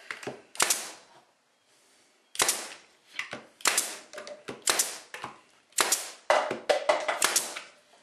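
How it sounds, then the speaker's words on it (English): A hammer drives a nail into the wooden bottom of a bee trap with a rapid series of sharp, loud, close blows in uneven bursts and one brief pause. "Nail that on the bottom."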